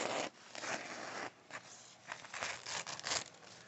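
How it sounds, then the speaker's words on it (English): Sharp ZAPAS Expendable knife slicing through paper towel, several raspy, hissing cutting strokes in short bursts with pauses between them, close and fairly clear, no speech. "Cutting paper towel, that knife's got to be sharp as shit to do that"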